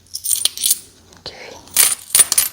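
A few coins drop and clink in two separate bright bursts, close and crisp, in a quiet indoor setting with a soft whisper-like hush between them.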